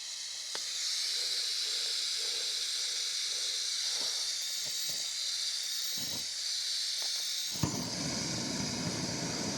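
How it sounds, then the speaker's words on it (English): Electric plasma lighter used to light a gas stove: a steady close hiss of gas runs throughout, with faint clicks and brief pops, ending in a sudden louder whoosh as the burner catches. "Let's see how fast it lights this stove."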